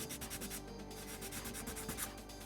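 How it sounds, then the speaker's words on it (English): A plastic part from an MG Blitz Gundam model kit is sanded by hand, a steady close scratchy rubbing in quick back-and-forth strokes with no talk. "but we'll give it a little bit of sand."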